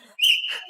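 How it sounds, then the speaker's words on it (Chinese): A small whistle shrills on a TV debate show stage, one sharp sustained blast up close, followed by a brief burst of audience or crowd noise with no talk. "据说是但凡说不过就吹哨"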